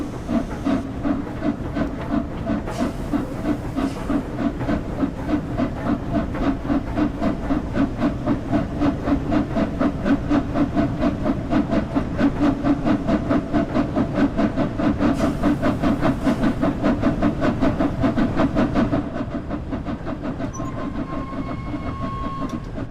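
A steam locomotive works hard through a tunnel in the Train Sim World game, its fast, rhythmic exhaust beats chuffing steadily over a low rumble and hiss, loud and continuous before easing slightly near the end.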